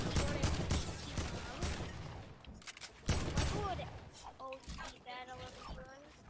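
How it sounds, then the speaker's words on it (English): Bursts of AK rifle gunfire in the Fortnite video game, dense rapid volleys that fade, then a second loud burst, with game effects and talk mixed underneath. "jag ska bara skjuta med mig AK:n"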